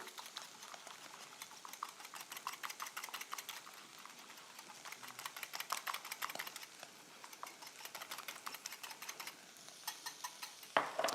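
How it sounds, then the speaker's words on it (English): A whisk clicks and scrapes quickly against a bowl while mixing carbonara sauce, a close, light, rapid rattling that runs steadily with brief pauses and no talk. "Then I'll take my whisk and just mix that real quick."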